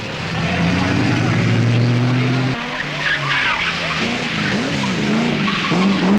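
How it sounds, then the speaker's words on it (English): A 1979 Triumph TR7 rally car, a powerful British sports car, races through the countryside with a loud, sustained engine roar and pitch sweeps as it revs and skids, held close throughout. "Once out in the country, Tony gives the powerful British sports car its head as he breaks away from the leading bunch to dominate the rally right from the start."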